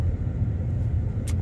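A car moves off on an icy, snowy winter road, heard from inside as a steady low engine and road rumble that runs unbroken through the short stretch.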